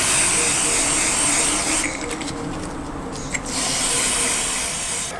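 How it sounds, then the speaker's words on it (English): A steady hiss of silicone spray aimed at a rubber strap on a Suzuki V-Strom 800 motorcycle air filter, loud and close, briefly dipping midway before resuming. "I'm going to spray it with some silicone spray specifically for rubber"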